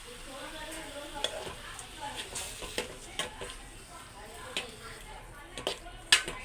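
Prawns are stirred in a pan, a low, steady sizzle with irregular soft scraping strokes of a spoon and a sharper clink near the end.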